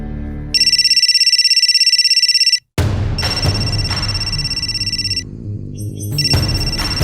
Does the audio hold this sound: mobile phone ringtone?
yes